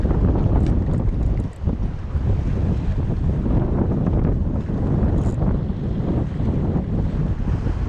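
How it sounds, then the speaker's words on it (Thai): Strong wind buffets the microphone on a boat out at sea while squid fishing off Ko Si Chang, a constant loud roar with gusts and rushing water underneath, no talk. "ลมแรงนะ"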